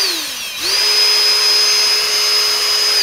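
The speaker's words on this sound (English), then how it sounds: "Okay, now I'm gonna just drill a hole inside." A power drill spins down briefly, then revs up again and whines at a steady high pitch as it bores a hole, loud and close with no talking.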